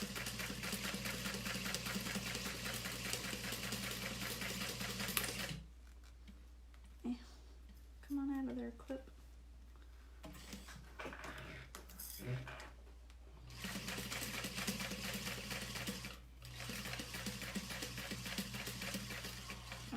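A sewing machine stitches sticky vinyl fabric in steady, loud mechanical runs, pausing for several seconds in the middle where brief handling noises are heard before stitching resumes close up.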